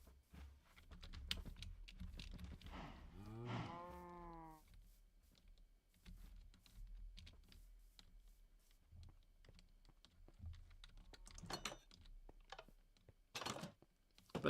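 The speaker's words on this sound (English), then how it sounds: "The cow sound." A Minecraft cow moos once, a short, low, drawn-out game sound, amid quiet computer keyboard typing and clicking.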